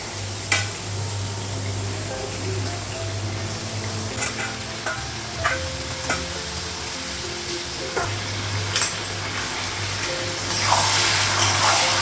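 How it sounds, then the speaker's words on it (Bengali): Spices frying in a pan in a home kitchen, a steady sizzle with occasional clinks and scrapes of a spoon stirring, plus a low hum in the background. "মশলাগুলো একটু ভেজে নেব"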